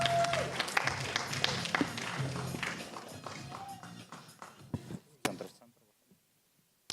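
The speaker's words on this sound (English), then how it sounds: "Applause, applause, applause, guys." Audience applause at a startup pitch competition, loud at first with a few louder claps and taps. It thins out and dies away to near silence, mixed with some background voices.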